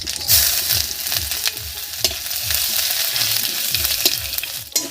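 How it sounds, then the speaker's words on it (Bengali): Dried red chillies, nigella seeds and grated ginger fry in hot oil for a Bengali spinach dish, sizzling steadily while a spoon stirs and scrapes the pan in a regular rhythm, close and alone. "আদা ভাজা ভাজা হয়ে গেছে"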